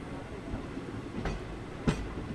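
Train pulling out of a small three-platform railway station on the Bhagalpur–Muzaffarpur Jansewa Express after a two-minute halt, a steady low rumble with a couple of brief sharp clanks, no talk.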